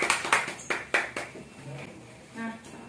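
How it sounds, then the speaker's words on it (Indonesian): Students clapping for a group in a chemistry classroom, a few loose, uneven claps that taper off quickly, followed by quiet room noise and faint murmuring. "Beri tepuk tangan untuk kelompok 2."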